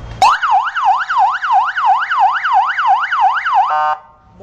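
A loud electronic siren from a 100W car and truck electric horn in siren mode wails up and down in rapid, regular sweeps, close by, for a few seconds before cutting off abruptly.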